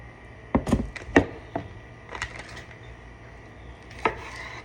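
A knife cuts through thawed steak on a cutting board, giving several sharp chopping thunks at irregular intervals, close and fairly loud against a quiet kitchen background.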